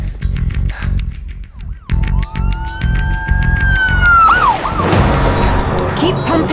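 An ambulance siren in a full-cast audio drama wails in long rising and falling sweeps, loud and close, over a rumbling vehicle and other dramatized sounds.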